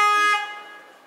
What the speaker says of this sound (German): Hupe funktioniert auch.